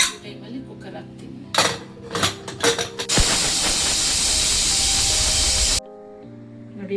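Metal pots and a pressure cooker clatter and clink in a home kitchen where bisibele bath is cooking, a few sharp knocks followed by a long, loud burst of hissing steam that stops abruptly.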